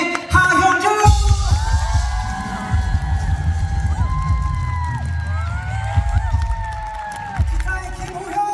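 Concert audience at the Seoul stop of a singer's 2024-25 national tour cheering and applauding loudly for the band introductions, a dense sustained roar with band instruments playing underneath.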